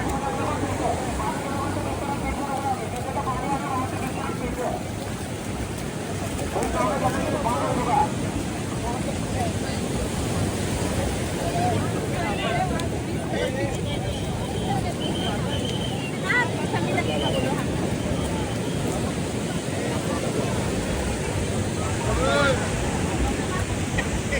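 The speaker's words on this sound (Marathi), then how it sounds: "लाटा बघा भरपूर आहे" Continuous roar of sea waves washing onto a Goa beach in the rain, buffeted by wind noise, with voices talking faintly in the background.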